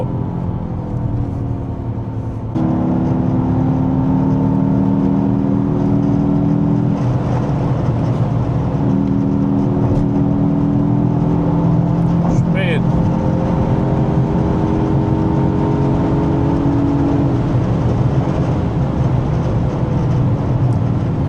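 A Mercedes-AMG GT 53 four-door with a six-cylinder engine pulls hard under acceleration, its loud droning note rising steadily in pitch through the gears, heard from inside the cabin with a person talking over it.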